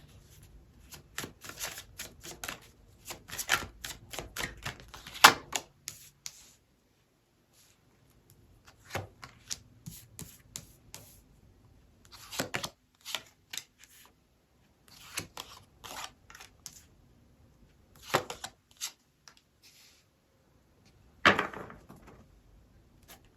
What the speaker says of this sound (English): I'm going to put a tarot card under each of these to clarify.